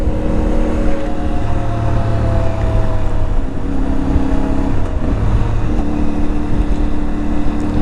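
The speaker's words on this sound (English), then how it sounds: "I love that little blip of the throttle" An IBEX 450 motorcycle engine idles with a steady, loud, droning hum, broken by a few quick throttle blips that briefly raise its pitch.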